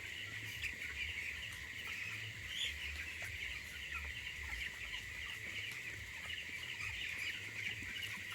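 Broiler chickens on day 18 fill a poultry shed with a dense, continuous chorus of soft clucking and cheeping, steady and moderately distant, with no voices.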